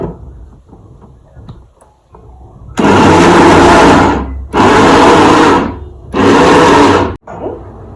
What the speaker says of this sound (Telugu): ఇప్పుడు నేను మిక్సీ పట్టేస్తానండి